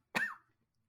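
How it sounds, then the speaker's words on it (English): A single sharp cough, close and fairly loud, fading quickly into silence. "if you were acting about coughing at the end, you deserve an Oscar"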